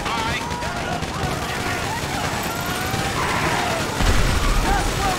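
Gunfire in the video game Grand Theft Auto 5, dense continuous shooting bursts amid engine and street noise during a chaotic shootout, loud and unbroken, with a heavier thump near the end.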